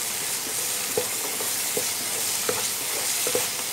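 Mutton chukka being stirred in a pan with garam masala, a continuous frying hiss under regular scraping and clinking strokes of a spoon, close and fairly even; no talking.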